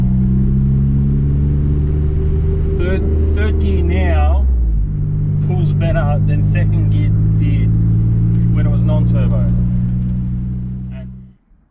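A turbocharged VG30-engined Nissan Navara pulls hard in third gear, its engine note droning loud and steady from inside the cab with a brief dip in pitch midway, while someone talks over it before the sound cuts off.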